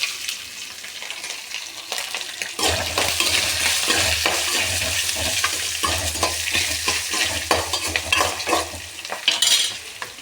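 Urad dal and green chillies fry and sizzle in a pan, with steady loud spatter and repeated scraping stirs throughout.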